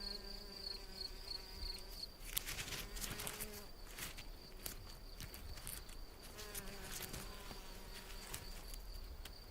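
A two-coloured mason bee (Osmia bicolor) buzzes close by as it prepares its nest in a snail shell, a thin steady whine with brief louder bursts of scrabbling and rustling, in an otherwise quiet outdoor setting.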